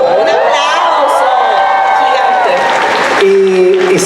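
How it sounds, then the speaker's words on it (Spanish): Comic Con crowd in Chile applauding and cheering loudly, a dense roar of clapping and whoops filling the whole moment, with a voice rising over it near the end. "Un aplauso"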